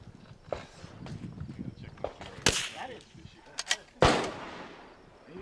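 Rifle shots at an outdoor precision shooting match ring out as a few sharp cracks, two louder blasts standing out among fainter distant reports, with people talking in the background.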